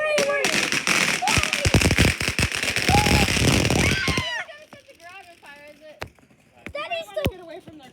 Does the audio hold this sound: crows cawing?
no